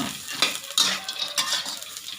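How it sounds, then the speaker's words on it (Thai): Peanuts being dry-roasted in a pan for a Thai mango salad, stirred steadily so the nuts scrape and rattle against the metal in repeated bursts, with a faint sizzle as the last of the rinse water cooks off. "เราจะคั่วไปแบบนี้นะคะ จนกว่าน้ำจะแห้ง"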